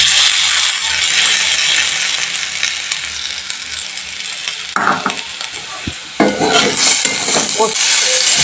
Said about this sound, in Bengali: পোস্তটা আলুর সাথে আমি একটু ভালো করে নেড়ে চেড়ে নিচ্ছি।